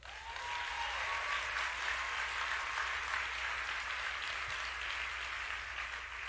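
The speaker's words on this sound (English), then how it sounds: "you should give yourselves a round of applause because of that" Sustained applause from a large crowd at a Turning Point USA student event, steady and dense for the full duration with no pauses, loud and enveloping with no talk over it.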